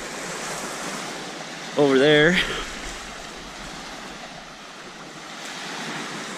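Ocean waves break on a shore at a backcountry campsite, a steady broad wash of surf heard with wind, while a person briefly speaks over it.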